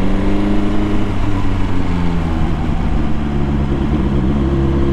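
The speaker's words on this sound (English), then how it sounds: "the exhaust is louder as expected, but not obnoxiously loud" A car engine drones steadily with a deep, throaty exhaust note, loud and close, its pitch shifting slightly as the vehicle drives through a built-up town.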